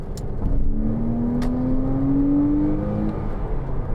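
A Porsche Cayman 2.9 (987) engine revs up nearby, its pitch sweeping steadily upward for a couple of seconds before easing off, with outdoor road ambience around it.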